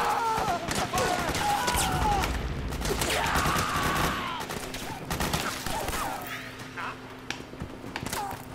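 A Metal Gear Solid 4 firefight crackles with dense bursts of gunshots and machine-gun fire, loud at first and then thinning to scattered distant shots, with game voices and sounds mixed in.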